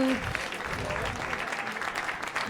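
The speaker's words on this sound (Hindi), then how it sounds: "बट एक बार जोरदार तालियां" A crowd applauds steadily, a dense wash of clapping hands throughout, with a brief voice at the start.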